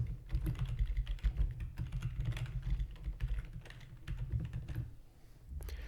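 Keys clatter in a quick, irregular stream of close taps on a computer keyboard as code is written, with brief pauses and no talk.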